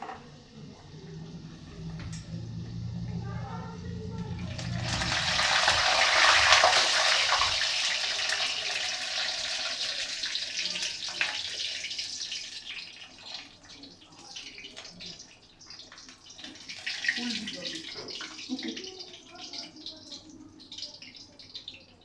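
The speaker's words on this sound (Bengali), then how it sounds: "এবার আমি কচুরিগুলো এক এক করে ভাজবো।" Kachori stuffed with jackfruit seed filling dropped into hot oil, a loud hissing sizzle surging up after a quieter start, then settling into softer crackling and bubbling, with a voice faintly heard at times.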